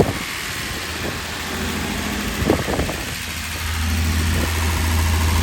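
A car engine idles steadily through an R12 refrigerant recharge, with a low hum and a brief change in speed as the AC compressor cuts in and out; no talking.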